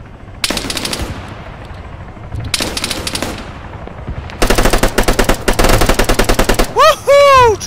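Gunfire in a military combat simulator game: two short bursts, then rapid sustained automatic fire, loud and close, ending with a whistling, rising-and-falling tone after the shots.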